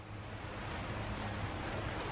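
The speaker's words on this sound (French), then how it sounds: "Ah la fameuse cascade avec un truc derrière." A waterfall in Elden Ring Shadow of the Erdtree gives a steady, broad rushing roar of falling water, constant and enveloping, with no talk over it.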